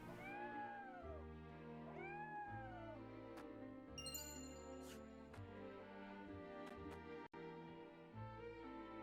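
A cat in the Triangle Strategy game meows in a few distinct rising and falling calls over steady game music, along with some short chimes and clicks.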